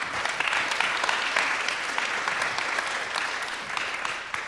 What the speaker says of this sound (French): Merci Nicolas et Olivier, on peut les applaudir, je crois